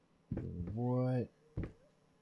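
A cat meows in the video game Layers of Fear, one drawn-out tonal meow framed by short thumps, close and fairly quiet.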